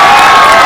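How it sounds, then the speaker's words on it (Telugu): A studio audience claps and cheers in one dense, loud wash of noise for a short burst. "ఒకసారి అందరూ సుమ గట్టిగా క్లాప్స్ కొడతారా?"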